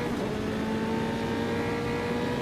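Formula 3 race car engine in a racing video game at the Red Bull Ring, a steady loud drone with sustained tonal whine, close and continuous with no talk.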